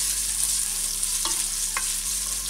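Bacon fries in hot oil with a loud, steady crackling sizzle, close up, with a couple of light stirring clicks and no voices.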